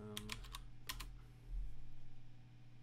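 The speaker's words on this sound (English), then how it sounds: "I'll just type it." Keyboard typing during an online social science demo, several quick clusters of key clicks early on, then quieter with low background hum; no speech.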